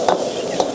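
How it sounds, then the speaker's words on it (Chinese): Pork intestines stir-fried with scallions and celery over high heat, a brief bright sizzle with two quick scrapes of a spatula in the wok, close and fairly loud. "把葱黄芹菜放下去，继续的用大火翻炒均匀"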